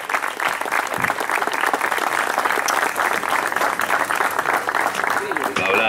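Audience applause at a social commitment award ceremony, with a loud, sustained crowd ovation of continuous clapping, and a voice over a speaker system heard faintly underneath near the end.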